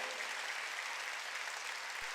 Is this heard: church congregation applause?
yes